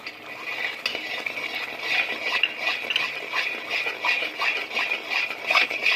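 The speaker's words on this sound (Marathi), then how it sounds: "आता आपण त्यामध्ये खोबऱ्याचा गोळा सोडणार आहोत" A spoon stirs a coconut paste ball into spiced masala in a pan for shev bhaji, with continuous scraping and soft clinks against the metal in an irregular, close rhythm and no talk.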